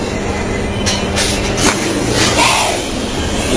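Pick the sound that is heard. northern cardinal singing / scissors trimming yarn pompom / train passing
train passing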